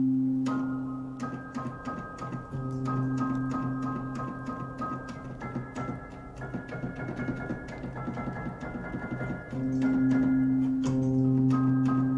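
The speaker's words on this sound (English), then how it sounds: "one more preset that I want to show you, which is this one, the warped piano" A quiet warped piano preset played on an M-Audio Keystation 61 keyboard, with a wobbly tone, plays sustained chords and held notes, with soft clicking along the way.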